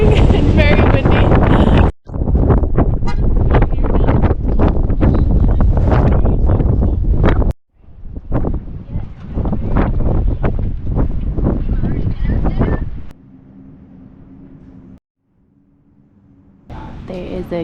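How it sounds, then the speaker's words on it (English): Strong gusting wind at the cold summit of Pikes Peak in Colorado, loud roaring buffeting across the microphone for long stretches, broken by brief lulls with quieter background hum. "It is freezing and very windy."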